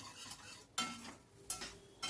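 Masala spices being stirred steadily in a pan over a medium-high gas flame, with a soft frying sizzle and three sharp spatula scrapes spaced evenly through the short stretch.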